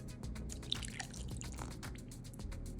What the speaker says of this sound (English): Now you're gonna pour in some egg whites.